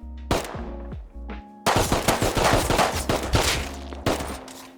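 Gunfire in the survival game Rust: a single loud shot, then after a pause a rapid volley of close shots in quick succession, punctuated by a few more bursts toward the end.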